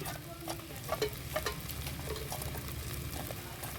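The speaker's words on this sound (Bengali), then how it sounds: "এবার মিশিয়ে নিচ্ছি ভালো মতন" Cabbage and fried lentil fritters being stirred and fried in a pan for a vegetarian cabbage dish, with a steady soft sizzle and a few scraping strokes of the spoon close up.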